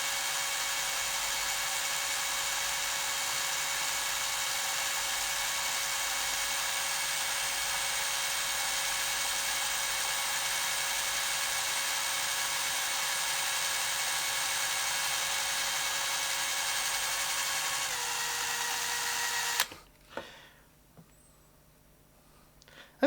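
A small drill bores into a TEMU pedal enclosure during a battery mod, a steady high whine held close and loud for nearly twenty seconds before cutting off, followed by faint handling sounds.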